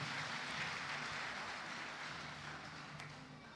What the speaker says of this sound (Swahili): Kwa hivyo naomba tuwapigie makofi mazuri